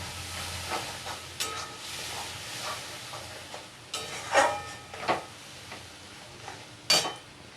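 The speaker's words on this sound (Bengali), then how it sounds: "যে মশলাটা পেস্ট করে নিয়েছি মিক্সিতে, ওটা দিয়ে দিচ্ছি। এটাকে আমি ভালোভাবে কষিয়ে নেব।" A ground spice paste for an egg curry sautés in a pan with a soft, continuous hiss, punctuated by several louder bursts of sizzling and scraping stirs.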